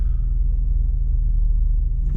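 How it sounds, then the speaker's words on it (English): A VW Golf Mk2 engine heard from inside the car during a rev-matched downshift, as a loud, deep, steady rumble that holds throughout. "Rev match downshifting, come on."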